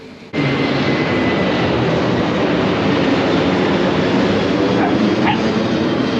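Airplane flying low near Corfu airport in the main town area, a steady, loud, broadband engine roar that starts abruptly and holds for several seconds with no talking.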